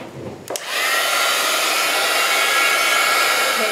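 A hair dryer blows a steady, loud, close whoosh over a gouache painting, switching on after a brief click and running continuously with no talking.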